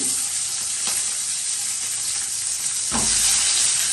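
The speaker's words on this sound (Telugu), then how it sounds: "సో ఇలా పచ్చిమిరపకాయలు వేసుకున్న తర్వాత ఇలా కోసి పెట్టుకున్న టమాటో ముక్కల్ని" Chopped tomato pieces hit a hot pan already holding green chillies, a steady broadband frying sizzle throughout that swells louder near the end as more pieces go in; no voices.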